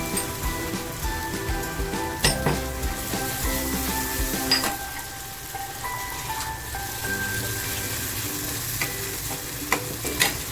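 Asafoetida, garlic and green chili fry in hot oil for a tempering for chana palak, giving a steady close sizzle broken by sharp clinks of a spoon stirring in the pan.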